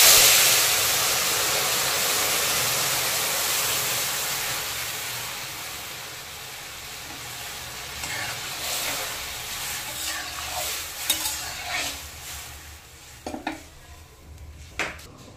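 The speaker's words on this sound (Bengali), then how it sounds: "তো এবার আমি ডালটা দিয়ে দেব।" Lentils going into a hot pot for a tangy green-mango dal, giving a steady broadband sizzle and hiss, then clinks of a utensil against metal and scraping stirring sounds toward the end.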